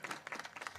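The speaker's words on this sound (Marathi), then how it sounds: "गुरुजींसाठी एकदा सगळ्यांनी टाळ्या वाजवा" Short burst of scattered audience clapping at a kirtan devotional program honoring a guru, with individual claps audible, fairly quiet and lasting under a second.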